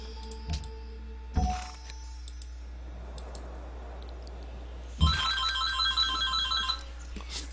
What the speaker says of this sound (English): phone's ringing and being annoying